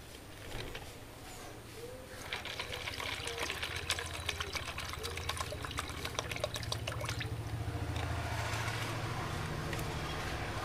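Water is poured and swished through a container of sandalwood seeds, a close, continuous trickling and sloshing that grows a little fuller partway through.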